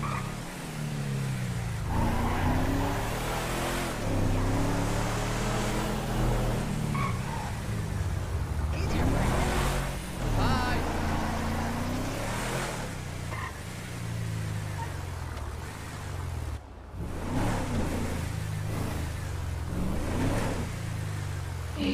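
A Ford Endeavour driving in GTA V, its engine droning steadily and shifting in pitch as it speeds along, with occasional tyre and road noise and no talk over it.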